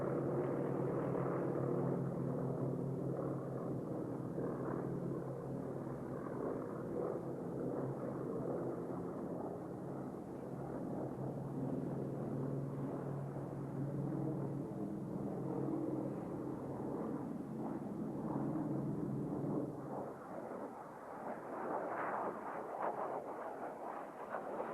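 A Tracker propeller-driven fixed-wing aircraft at an air show gives off a continuous, broad rumbling drone at moderate distance, steady for most of the stretch and easing slightly near the end.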